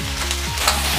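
Cauliflower, dried chilies and crispy pork cracklings tossed in a hot wok with lard and garlic give a brief, busy sizzle with scraping stir sounds over a low steady hum.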